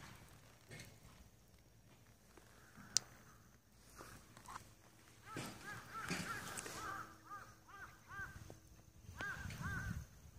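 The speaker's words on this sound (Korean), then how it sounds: "까마귀들도 있는 것 같고." Crows call in a snowy schoolyard, a series of short harsh caws repeating at moderate distance over a quiet background with occasional soft footsteps and small knocks.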